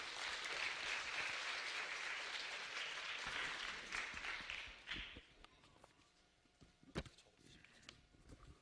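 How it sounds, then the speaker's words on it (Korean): An audience at the 2012 Seoul social economy idea contest claps loudly to welcome the organizing committee chairman. The applause holds for about five seconds, then tapers off into a few scattered claps and footsteps. "여러분 좀 큰 박수로 맞아주시면 감사하겠습니다."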